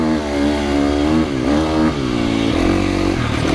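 2025 KTM 350XCF dirt bike engine revs hard while riding, a loud, close, buzzing four-stroke note rising and dipping through gear changes without pause.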